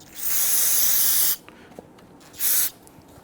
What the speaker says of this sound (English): Once again, spray solvent.